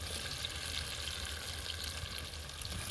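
Chicken pieces go into fried chicken biryani masala in a pot cooked outdoors in a village by a pond, giving a steady, close, moderate sizzle.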